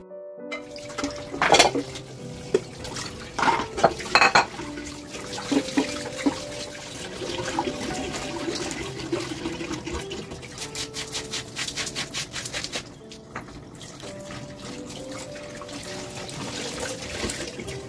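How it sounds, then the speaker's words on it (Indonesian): Dishes being washed by hand at a home sink with running tap water, a steady close trickle of water with intermittent clinks and rubbing of plates and utensils, no speech. "Dan ini untuk cucian piring aku hari ini lumayan sedikit ya"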